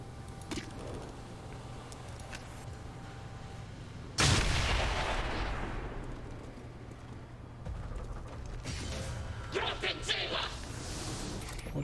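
Gunfire in the XCOM 2 tactical game: a loud burst of shots hits abruptly and decays over a couple of seconds, followed later by a cluster of sharper cracks, over low background game audio with a brief voice.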